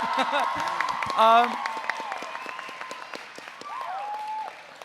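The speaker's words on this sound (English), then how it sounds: "Yes, we clap." Audience applause for a theater director at a school performing arts production of The Little Mermaid, steady clapping running under a speaking voice, with a brief louder swell and a few scattered whoops.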